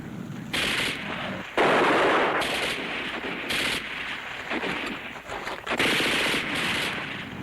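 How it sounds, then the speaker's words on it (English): Bursts of machine gun fire in a World War II combat drama, loud rattling volleys in several separate runs of varying length, close and dense, with no voices over them. "I'm gonna get that gun. Saunders said to stay right here. You start shooting, Sonny."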